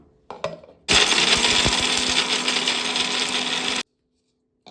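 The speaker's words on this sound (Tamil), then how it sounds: "நம்ம மிக்சியில் உளுத்தம்பருப்பு, கடலைப்பருப்பு, அந்த காஞ்ச மிளகாய், புளி எல்லாம் வதக்கி வச்சிருந்தோம்ல, அதை சேர்த்துருக்கோம்." A kitchen mixie grinds roasted urad dal, chana dal, dried red chillies and tamarind, a loud, steady grinding whir running for about three seconds before cutting off abruptly, preceded by a couple of brief knocks.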